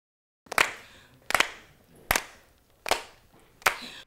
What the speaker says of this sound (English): Everyone must clap, just clap along